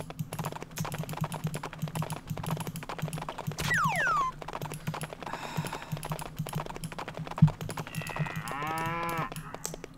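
A comic stampede effect from the video game The Lost Mind of Dr. Brain, with cattle mooing, whistling swoops and a rapid patter of hooves, heard over steady computer keyboard clicking and no talk.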